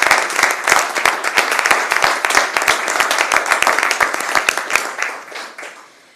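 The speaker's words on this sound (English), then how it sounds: "I'm going to stop and give you a round of applause for that." Applause at a city council meeting honoring a state Class 2A baseball championship team, loud and close, with dense clapping that thins out and fades over the last seconds.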